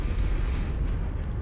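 A destroyed mech explodes in MechWarrior 5: Mercenaries, a loud sustained rumbling blast with deep low-end roar filling the whole moment, no talk over it.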